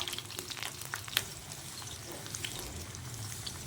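Turkish kebabs frying in hot oil on a tawa over a low flame, a close, continuous crackling sizzle with fine popping spatter and one sharper pop, with no talking.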